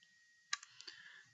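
A computer mouse clicks on a form-building screen: one sharp close click, then a few lighter clicks in quick succession over a faint steady background hiss.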